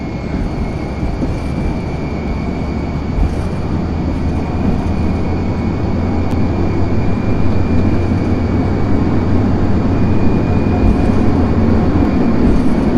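An F-14D Tomcat makes its takeoff roll at full throttle in the FSX flight simulator, a loud, constant jet roar with a thin high whine that swells slightly as it accelerates, with no voices.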